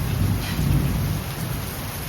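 Heavy monsoon downpour with thunder, a steady loud roar of rain drumming on surfaces and deep thunder rumbling beneath, continuous throughout with no voices.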